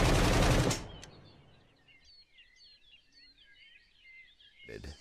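Gunfire from a weapon in the survival game SCUM: a loud burst of shots in the opening second, then quieter game ambience with chirping birds, and another sharp shot at the very end.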